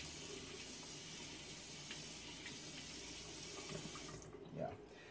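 A tap runs into a sink as a shaving brush is rinsed, a steady hiss of water that stops near the end and leaves faint handling noise.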